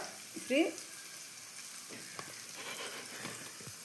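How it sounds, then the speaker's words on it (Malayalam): Mustard seeds sputter and crackle in hot oil in a pan while an Assamese fish curry is being cooked, a faint steady sizzle with small pops and one brief louder burst near the start. "ഇനി കടുക് പൊട്ടിക്കുക"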